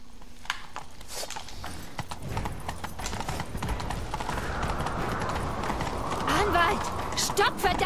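Rapid clip-clop of horse hooves at a gallop in the video game The Witcher 3, steady and fairly loud, with rising rushing movement noise toward the end.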